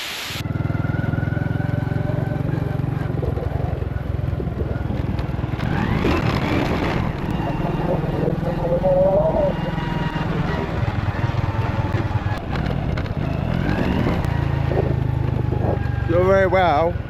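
A motorbike with no brakes drones steadily up close while riding a rough track in Vietnam, the engine note shifting with bumps, and someone talks over it now and then.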